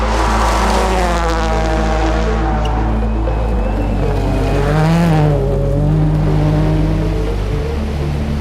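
Subaru rally cars pull away in a loud, continuous engine roar with shifting tones, the revs climbing and dropping as the cars drive off up close without any talk.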